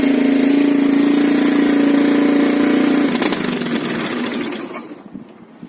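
A Yamaha AG200 motorcycle with a faulty carburettor idles with a steady droning hum for about three seconds, then sputters and falters unevenly before dying away into quiet.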